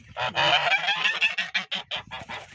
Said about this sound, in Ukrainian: Тут у нас ось сидить гусечка.